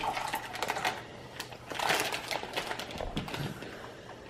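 Semi-sweet chocolate chips are poured into ice cream, making a rapid, irregular patter of small hard pieces clicking and tumbling close by.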